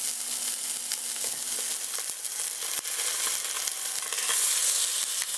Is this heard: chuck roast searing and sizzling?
yes